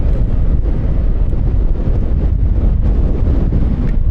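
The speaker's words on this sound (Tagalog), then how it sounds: "kung naririnig nyo, malakas ang hangin." Strong typhoon wind buffeting the microphone on a road trip, with a steady, heavy roar and low rumble, constant throughout with no voices.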